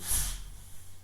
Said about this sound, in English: if you guys hear any sniffling or noises, that's my dog